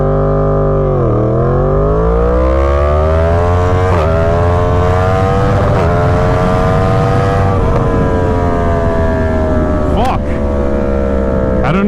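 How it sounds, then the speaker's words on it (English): A Yamaha FZ10 motorcycle accelerates hard from 0 to 100 mph with traction control at its lowest setting, its engine note climbing loudly and close through several gears, with brief drops at each shift. "Yamaha Fz10, traction control in the lowest setting, 0 to 100 miles an hour."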